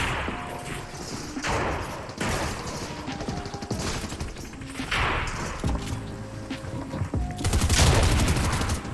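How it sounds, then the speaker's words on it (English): Rapid bursts of gunfire from a pump shotgun and other weapons in a Fortnite solo cash cup match, loud and continuous with repeated cracks and a heavier flurry near the end, no talk. "Missed my pump shot there."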